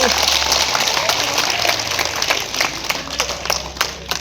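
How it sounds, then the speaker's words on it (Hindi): A group of people claps hands together during a yoga session at an office, a dense patter of claps that grows more uneven and scattered toward the end, with voices underneath. "ताली बजाओ, ताली बजाओ।"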